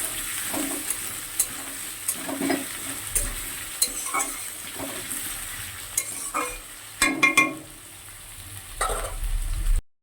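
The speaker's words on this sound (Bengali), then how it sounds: "দেখো আমার আলু আর পেঁয়াজটা ভাজা হয়ে গিয়েছে।" Potatoes and onions fry in a pan with a steady sizzle, broken by repeated scraping and stirring strokes and occasional clinks of a utensil against the pan.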